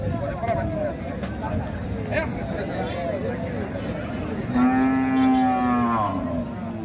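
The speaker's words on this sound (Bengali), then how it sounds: "অসংখ্য গরু, হাজার হাজার গরু এখানে।" Cattle moo loudly, one long low call standing out over a busy crowd murmur and scattered animal sounds at an outdoor cattle market.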